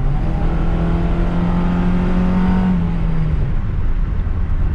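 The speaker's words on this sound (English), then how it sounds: "We'll see if I give it some gas, if it'll kick down." A Mazda Miata with an automatic transmission and a failed ECU revs loudly up close under throttle, the engine tone climbing steadily and then dropping as the gearbox kicks down, with a continuous droning hum throughout.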